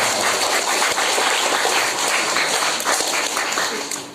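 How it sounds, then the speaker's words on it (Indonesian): Applause from a village gathering in East Lombok honoring three village heads, a steady dense wash of clapping from a crowd, sustained throughout with a slight fade at the end. "Kita berikan aplaus kepada tiga kepala desa."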